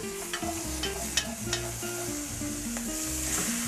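Browned meat in Bolognese sauce sizzles in a pan, a steady crackling fry with sharp scrapes and clatter of a utensil stirring nearby, fairly close, no voices.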